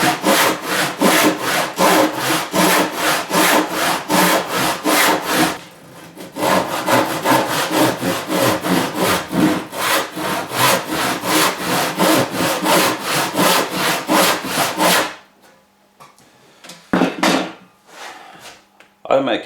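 A hand saw cuts wood for traditional door joinery in a hand-tool workshop, giving close, loud, steady rhythmic back-and-forth strokes in two long runs with a short pause between, then a few scattered knocks as the sawing stops.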